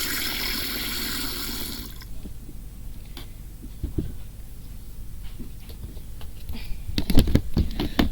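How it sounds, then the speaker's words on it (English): Water rushes into a dish for a few seconds, giving way to quiet drips, small knocks and splashes close by. "fill a water dish up"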